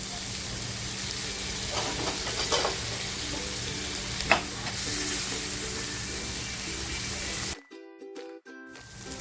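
Home-style masala sizzles in a pan as tomatoes go in for a spicy spinach and barfish curry, a steady close frying hiss with stirring scrapes that cuts out sharply near the end.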